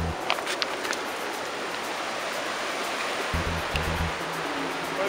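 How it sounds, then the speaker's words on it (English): Steady broadband roar of a rushing river in Sequoia National Park, continuous and loud with no letup, water noise filling the scene with only faint low thumps beneath. "That's the deadly river."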